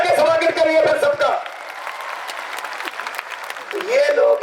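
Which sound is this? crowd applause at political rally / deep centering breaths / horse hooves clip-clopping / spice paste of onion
crowd applause at political rally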